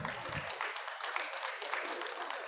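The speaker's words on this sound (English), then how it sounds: "let's give her and our other two exhibitors in that class a nice round of applause" Audience applauding at a junior livestock show for 4-H exhibitors in a breeding beef and market steer class: steady, dense clapping from a crowd, moderately loud and continuous, with a brief low voice at the very start.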